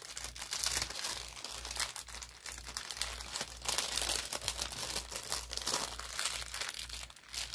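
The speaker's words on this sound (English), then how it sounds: "this paper makes a lot of noise" Packing paper crinkles and crunches continuously as jewelry is wrapped and packed, a close, busy rustling with no talk.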